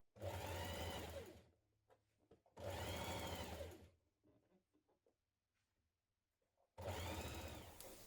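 A sewing machine stitches a dress sleeve in place, running in three loud, steady bursts with quiet pauses and faint handling noises between them.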